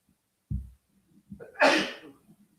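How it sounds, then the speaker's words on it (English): A single close sneeze from an indoor speaker, preceded by a sharp inhale, with a short breathy burst at its peak and a quiet room around it. "I have to sneeze."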